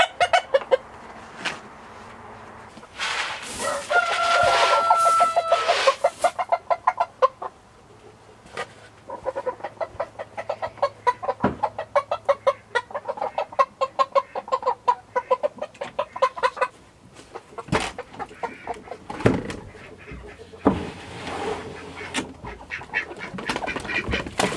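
Icelandic chickens cluck and squawk at close range in a pen, repeated busy clucks with some louder bursts of calls, continuing steadily throughout.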